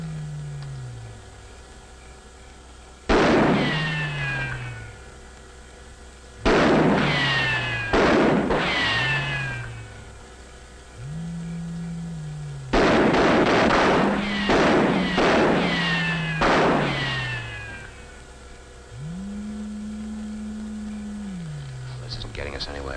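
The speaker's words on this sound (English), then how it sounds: "Fire a few rounds." Soldiers fire a few rounds in a 1950s science-fiction film, sharp loud broadband bursts landing in several clustered volleys across the scene, with an engine-like hum and sustained tones between the shots.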